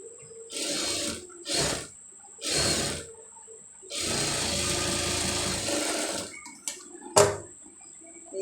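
A sewing machine stitches a sleeve seam in short rattling bursts, several quick runs and one longer stretch, close and moderately loud with a thin steady whine beneath.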